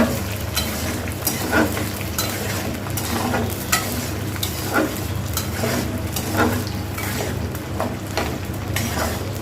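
Garlic fries in a pan as the start of a Bengali beef pickle. A loud, steady sizzle runs throughout, with regular scraping strokes from stirring and no talking.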